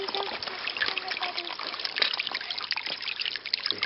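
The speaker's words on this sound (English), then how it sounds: "Running water is always cleaner and safer." Running water trickles steadily in an outdoor stream, a continuous close bubbling and splashing wash that persists throughout with no pause.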